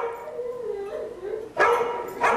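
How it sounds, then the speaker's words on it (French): A dog whimpers and howls in a drawn-out tone, then lets out two sharp, loud barks close by. "Il aboie."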